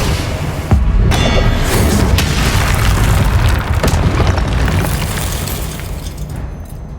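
A Confringo fire spell explodes in Hogwarts Legacy gameplay, giving a loud, booming blast followed by sustained roaring, crackling noise that stays heavy and dense for several seconds before easing slightly, with no voices.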